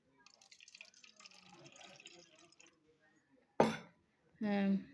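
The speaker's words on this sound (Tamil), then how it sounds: "இதுலேயும் தண்ணி ஊற்றிக்கலாம்" Water is poured into honey for a purity test, heard as two short splashing pours after a stretch of quiet talking, with a sharp first splash followed by a steadier gush.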